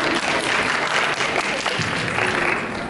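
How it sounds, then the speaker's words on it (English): Audience applause fills a Halloween concert in a New Dorp High School venue, a steady, dense wash of clapping from a large crowd, loud and continuous for the whole stretch. "Thank you, hold your applause."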